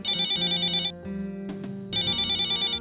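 A telephone rings in two loud electronic bursts with a short quiet gap between them, set in a home during a family sitcom scene, with no one speaking over it.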